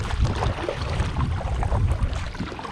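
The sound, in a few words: rowing a boat across a lake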